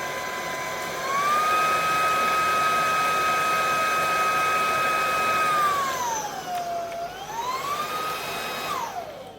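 A Proscenic P20 handheld table vacuum cleaner runs with a loud, steady motor whine. Its pitch dips and climbs again as the power setting changes, then it cuts off at the end.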